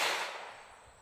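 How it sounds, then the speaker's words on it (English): A single .22 long rifle shot from a Rough Rider revolver firing a 40 grain round, a sharp crack at the very start that decays into a fading broadband tail, with no talking. "This is my Rough Rider 22 long rifle, and I'll be loaded up with some 22 40 grain rounds."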